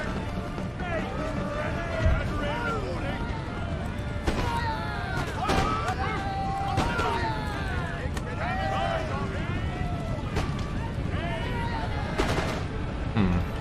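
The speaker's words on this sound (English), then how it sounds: "That platoon firing is working out very nicely for us." Musket fire from line infantry in Empire: Total War, with repeated crackling volleys and scattered shots over a dense battlefield din, while speech runs over the top throughout.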